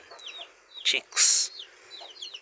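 Hens and chicks in a traditional cage in a rural Kenyan village cluck and peep: high, bright chick chirps run throughout, broken by a few louder, harsher clucking bursts close by.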